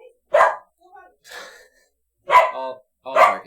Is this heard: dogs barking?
yes